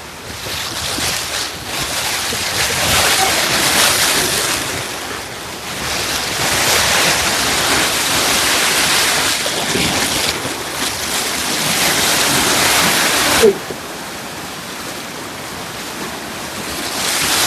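Sea waves surging and breaking just below a house by the shore, a loud, continuous wash of surf in swelling rushes, with heavy wind buffeting the microphone and a sharp knock near the end.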